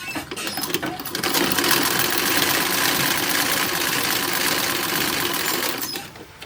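A sewing machine runs steadily for about five seconds, stitching a mantua maker's hem on a 1930s Hooverette dress, its whir starting and stopping abruptly with no talk.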